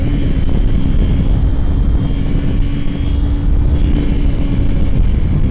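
An RC drift car engine revs at around 11,000 to 12,000 RPM with a loud, steady, high-pitched drone close to the microphone and some wind buffeting, with no voices.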